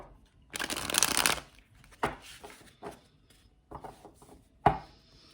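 Tarot cards being shuffled by hand, with a long riffling burst near the start, then several shorter slaps and flutters of the deck spaced apart, close and clear.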